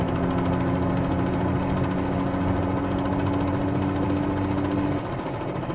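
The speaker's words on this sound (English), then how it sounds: "this will overspeed the engine and ultimately lead to an engine failure." The piston engine of a Bell 47-G2 helicopter in Microsoft Flight Simulator 2020 overspeeds with the collective fully down, a loud, steady droning whine with a sustained tone that drops away near the end.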